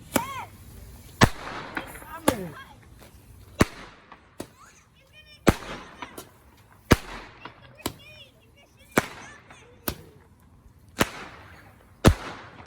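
Fireworks and firecrackers going off on a street near a gas station on New Year's Eve, giving about a dozen sharp, loud bangs at irregular intervals with crackling in between, and people talking around them.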